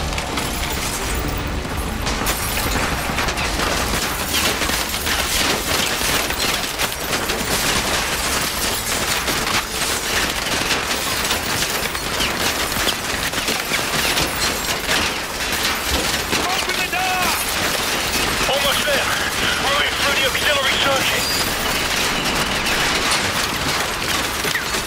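Dense enemy gunfire pounds against a riot shield in Call of Duty MW2 Remastered, The Gulag, a continuous loud barrage of rapid shots and impacts with voices calling out beneath the din.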